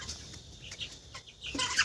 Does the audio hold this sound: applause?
no